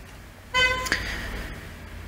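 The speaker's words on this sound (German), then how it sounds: "Danke fürs Hupen." A car horn honks once outside in a single short, bright toot, heard at a moderate distance against quiet room tone.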